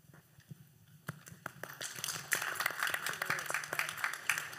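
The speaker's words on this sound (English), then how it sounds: "I think we all owe them a huge round of applause" Audience applause at a space symposium panel, starting as scattered claps and swelling into a steady wash of clapping from a seated crowd.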